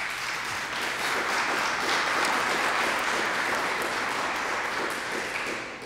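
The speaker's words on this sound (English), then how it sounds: "a round of applause for the Vice Mayor Kennedy, please." Audience at a district community meeting applauds the Vice Mayor, a sustained, even wash of many hands clapping that holds steady for about six seconds.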